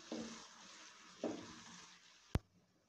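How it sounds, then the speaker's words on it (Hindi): Chopped onions fry in a pan with cumin and green chili, a quiet sizzle under a few soft stirring scrapes, ending with a sharp click of utensil against the pan. "प्याज को हल्का गुलाबी होने तक फ्राई करेंगे"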